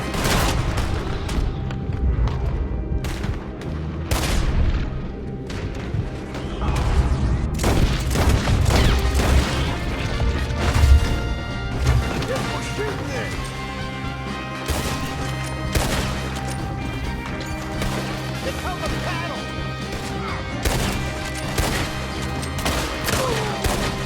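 Gunfire in a Red Dead Redemption II shootout, with repeated sharp rifle and pistol shots and booming reports in rapid bursts, loud and close over a busy background of game music and ambience.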